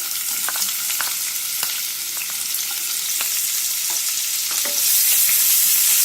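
Onions go into whole spices that are already roasting in oil for mushroom masala, and they give a loud, steady sizzle with scattered crackles and stirring clicks. The frying swells louder near the end.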